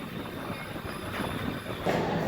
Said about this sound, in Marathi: समोरच्या प्लॅटफॉर्मवर मित्रांनो मैसूर बेळगावी पॅसेंजर ट्रेन आहे